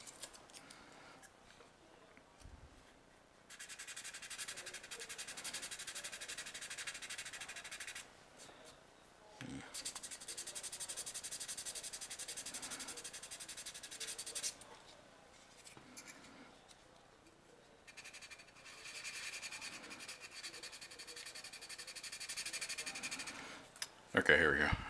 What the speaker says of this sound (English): it's the basic idea, is just sand that away